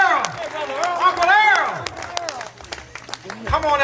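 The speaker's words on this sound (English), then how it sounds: "Big round of applause for Senator Long" A crowd applauds and cheers for Senator Long at a political rally, with a spread-out clapping wash, a few shouts, and a nearby voice talking through the noise.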